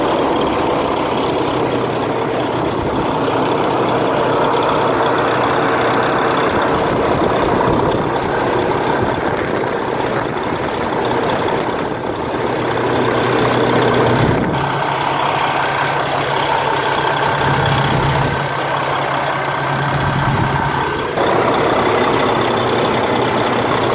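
Diesel engine of a 2015 Peterbilt 579 truck with a Paccar MX-13 engine and Eaton 10-speed transmission, heard starting and then idling steadily and loud throughout, with a low rumble and no talk.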